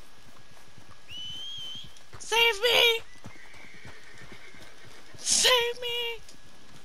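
A horse in the Western video game Red Dead Redemption 2 whinnies loudly twice, each a shrill drawn-out neigh, over a steady low run of hoofbeats, with someone shouting nearby.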